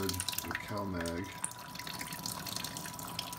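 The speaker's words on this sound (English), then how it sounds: "I just like to water them real good with CalMag." Water containing CalMag solution at about 60 ppm is poured over mounted Lepanthes orchids, a steady splashing trickle with drips, close by, while a voice briefly speaks over it.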